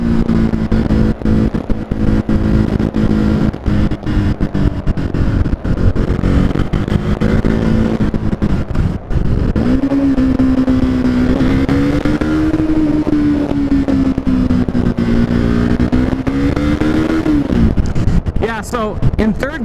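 A KTM 390 Duke motorcycle engine drones loudly and close as it accelerates, its pitch rising and holding through the gears, with wind rumble throughout and a rider talking over it.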